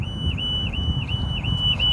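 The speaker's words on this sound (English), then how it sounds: "So the alarm is ringing right now" Alarm ringing continuously with a periodic warbling tone that rises and falls about every third of a second, steady over low rumbling background noise.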